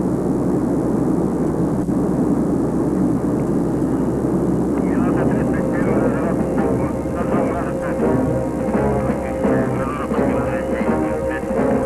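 The steady drone of a Soviet military transport aircraft carrying paratroops in flight fills the clip, loud and continuous, with a voice speaking over the engine noise.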